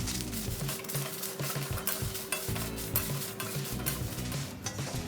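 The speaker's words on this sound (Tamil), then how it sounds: "காஞ்ச மிளகாய் நல்லா வறுபட்டுருச்சு." Dried red chillies roasting and being stirred in a hot pan, a steady crackling sizzle with repeated scraping stirs and light metal pan clatter throughout, close and fairly loud.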